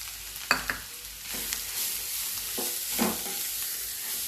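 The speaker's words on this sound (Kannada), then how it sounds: "ಇದನ್ನ ನಾವು ನೀರಿನ ಅಂಶ ಹೋಗೋ ತನಕ ಸ್ವಲ್ಪ ಫ್ರೈ ಮಾಡೋಣ." Grated carrot frying in a pan for carrot halwa, with a continuous soft sizzle broken by several scraping stirs of a spatula against the pan, close by and with no talking.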